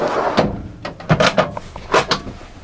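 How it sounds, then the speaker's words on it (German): A drawer in a 2021 Dethleffs T 7051 Pulse GT motorhome slides open and shut, giving a few close, sharp knocks and rattles in quick succession. "Und unten haben wir nochmal eine Schublade."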